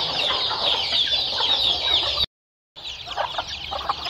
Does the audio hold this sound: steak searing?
no